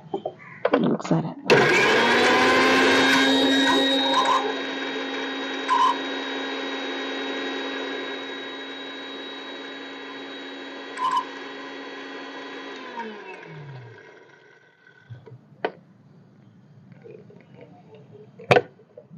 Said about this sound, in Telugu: ఇప్పుడైతే నేను మిక్సీ వేస్తున్నాను